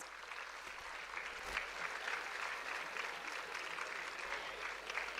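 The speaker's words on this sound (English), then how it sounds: "With a huge round of applause, again, let us welcome our Honorable Mr." Steady, dense applause from a large seated audience welcoming guests at a youth achievers summit in an auditorium hall, with even, continuous clapping and no talk for several seconds.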